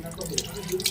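Running tap water splashes steadily into a sink as sapodilla fruit is rinsed, a soft continuous wash with light drips, close and moderately quiet.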